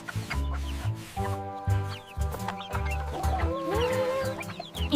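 Cartoon hens on a farm cluck repeatedly at close range, short throaty calls overlapping in an irregular rhythm, with a few higher squawks among them.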